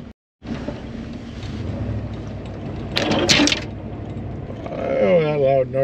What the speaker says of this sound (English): that loud noise you heard was a branch ripping paint off the side of the truck.